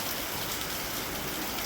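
Steady rain falls in Uttarakhand, a dense, even hiss of drops spread across the whole sound with no pauses and no voices, fairly soft and continuous throughout.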